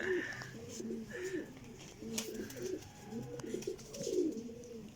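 Several pigeons coo repeatedly in low, throaty rolling phrases, overlapping one another against a soft background hiss.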